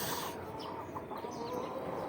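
Many hens cluck and chatter continuously, a dense, close flock sound filling the whole clip.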